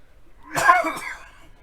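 A single short cough, close and fairly loud, against near silence.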